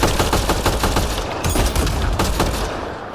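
Sustained gunfire in the sci-fi shooter game Mass Effect Andromeda, with dense rapid automatic bursts and booming shots hammering continuously, loud and close, with no talking.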